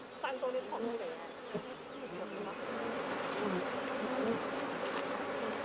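Native bees recruited from the wild buzz busily around a beehive kept by a beekeeper, a steady, fairly soft drone that swells slightly as it goes, with a few close insect passes near the start.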